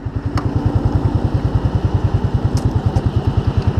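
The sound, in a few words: Yamaha Fazer 250 motorcycle engine running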